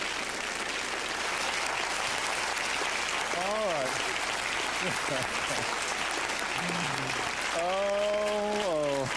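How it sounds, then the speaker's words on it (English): Loud, continuous audience applause and clapping fills the whole stretch, with voices talking and laughing over it. "that's a lot of clapping"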